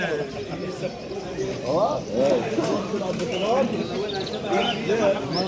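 Pigeons and doves coo and call at a crowded bird market in downtown Amman, Jordan, with repeated warbling coos at close range over people talking and general market bustle.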